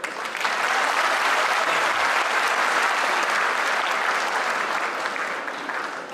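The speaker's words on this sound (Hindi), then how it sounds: "जरूर ताली बजाइएगा खुद के लिए।" Sustained applause from a large audience at a motivational talk, steady and dense for about six seconds, with no speech over it.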